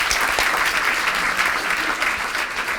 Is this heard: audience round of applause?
yes